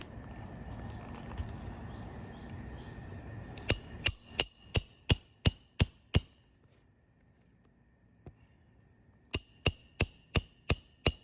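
A hammer drives roofing nails during a roof repair, two bursts of sharp ringing metallic blows, about seven quick evenly spaced strikes, a pause, then six more, close and loud, with low background murmur before the first run.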